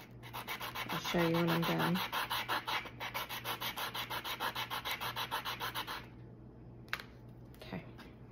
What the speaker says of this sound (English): so this has been sanded, and this one needs to be sanded.